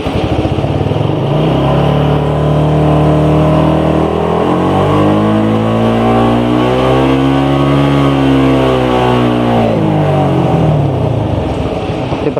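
A Suzuki Satria FU150 motorcycle engine in first gear and power mode revs hard, its pitch climbing steeply, holding high, then falling back, loud, close and continuous with no voices.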